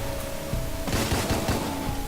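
Gunshots in the top-down video game Deadbolt, a quick run of sharp shots after a steady noisy hum, loud and close, with no talking.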